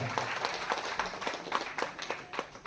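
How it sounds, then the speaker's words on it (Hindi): A crowd gathered at a community event applauds with fairly faint, roughly rhythmic clapping heard from a little distance, while a voice keeps speaking over it. "बजा लीजिए, ताली बजा लीजिए एक बार जोरदार"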